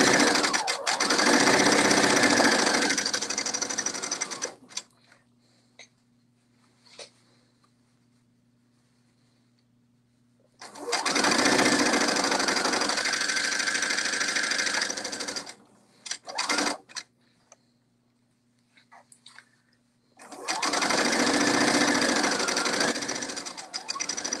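A sewing machine stitches a kimono seam with a 5/8 inch seam allowance in three long, loud bursts of steady running, each separated by several seconds of near silence with faint handling clicks.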